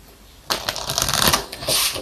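Oracle cards are shuffled by hand during a tarot reading, a close, steady riffling patter that starts abruptly and runs on without pause.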